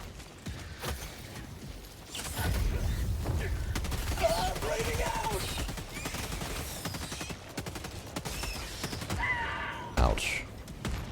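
A mortar sentry in Helldivers 2 fires amid heavy combat, with dense overlapping gunfire and explosions across the middle, loud bursts near the end, and a player speaking over the action.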